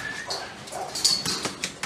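A pit bull of about 45 pounds gives short yips and whimpering whines outdoors in a kennel yard, a few sharp barks rising over a quiet background.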